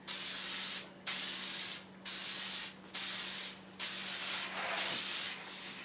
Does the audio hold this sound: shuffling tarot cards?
no